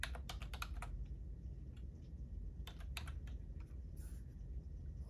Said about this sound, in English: I'm just going to go ahead and type in their names.